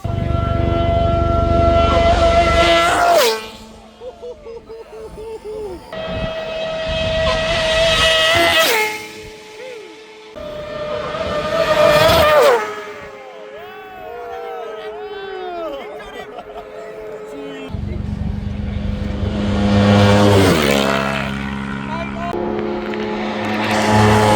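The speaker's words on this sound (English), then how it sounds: "We are looking at some sidecar action" Sidecar outfits racing at the Isle of Man TT: several loud screaming engine passes swell and fade one after another, each dropping in pitch as it goes by, with people talking in between.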